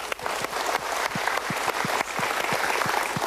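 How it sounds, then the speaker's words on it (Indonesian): A studio audience at an Indonesian television talk show claps steadily, a moderate even patter of many hands with regular distinct slaps running throughout. "Kita berikan tepuk tangan dulu."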